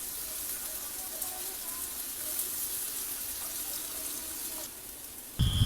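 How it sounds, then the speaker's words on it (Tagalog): Water pours steadily into a cooking pot of pakbet with meat and vegetables, a soft continuous splashing hiss that runs evenly for several seconds before a brief louder clatter at the end. "Tapos dugangan natin na ng tubig."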